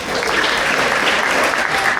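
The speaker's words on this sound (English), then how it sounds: "How about a round of applause for our new citizens?" Applause breaks out for newly naturalized citizens at a ceremony, a dense, continuous clapping from a room full of people, loud and steady for the whole stretch.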